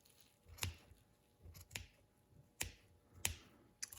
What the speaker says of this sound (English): I'm just gliding my scissors along the plastic. So I'm going to cut straight across.